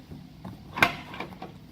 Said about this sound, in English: The door popper works fine.